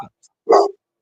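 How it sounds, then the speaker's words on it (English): A single dog's bark rings out on its own, a short, loud burst after a brief quiet pause, heard during a live stream. "Who's got barking dogs?"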